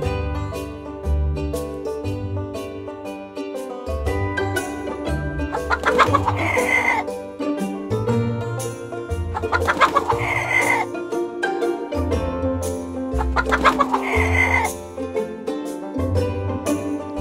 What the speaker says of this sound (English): Follow the chicken!